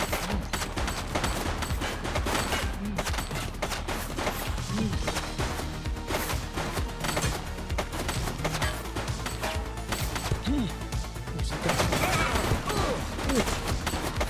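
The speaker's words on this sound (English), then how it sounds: "He's shooting!" Gunfire during a Chinatown police patrol in the video game The Precinct sounds as a dense, continuous stream of rapid shots and crashing impacts throughout, growing louder toward the end.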